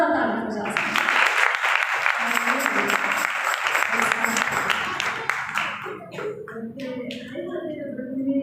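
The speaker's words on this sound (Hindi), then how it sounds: "आप जोरदार तालियां बजा सकते हैं।" Church seminar audience breaks into broad applause, a dense wash of clapping that swells and holds, with talk and voices sounding over and under it throughout.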